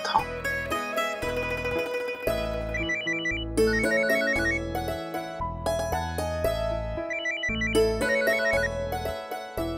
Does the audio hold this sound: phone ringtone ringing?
yes